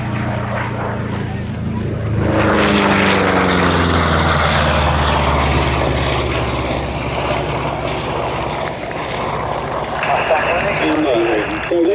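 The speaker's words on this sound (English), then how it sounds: "please put your hands together for Grumman Wildcat, the P-47" A P-47 propeller warplane flies a display at an airshow, its loud piston-engine drone sweeping past with a falling pitch, then staying steady and strong, while an announcer talks over it.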